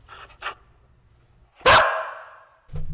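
A dog gives a couple of soft yips, then one sharp, loud bark nearby, followed by a brief low sound.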